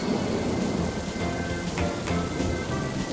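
Cartoon rain falls steadily with rolling thunder in a continuous dense wash of sound, loud and close, with no voices.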